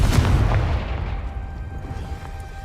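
A Confringo blasting curse explodes in Hogwarts Legacy with a single loud, close boom that rumbles and fades away over a couple of seconds.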